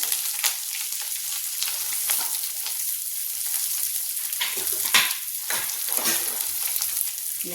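Steady sizzling from onion frying in a hot pan with cooked spices, with occasional stirring scrapes and crackles over a constant hiss, close and fairly loud.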